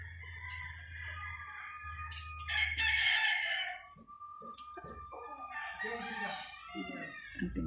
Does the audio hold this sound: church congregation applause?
no